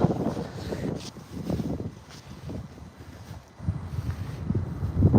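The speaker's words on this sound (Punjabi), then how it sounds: "ਹਵਾ ਬਹੁਤ ਚੱਲਦੀ ਪਈ ਆ" Strong cold wind gusts across an open area of a Belgian city at night, rushing and buffeting the microphone in uneven surges that rise and fall, with no voices.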